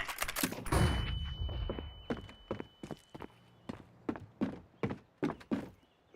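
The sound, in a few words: flashbang grenade thrown in video game CSGO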